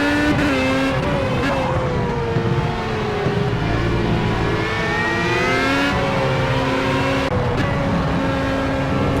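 A Formula A race car engine in the game Project CARS screams steadily at high revs around the Nurburgring, pitch sweeping up and down through gear changes in a continuous, loud, close drone.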